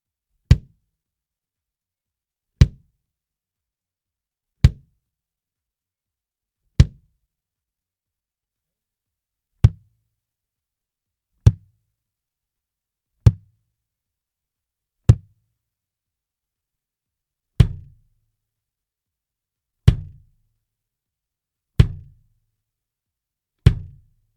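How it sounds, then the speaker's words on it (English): Single deep kick drum hits, dry with no EQ, struck one at a time with pauses between, about a dozen thumps with varying body from drums of different sizes. "So you're hearing the difference between the size of kick drums as well."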